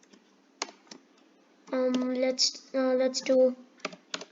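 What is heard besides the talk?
typing on a computer keyboard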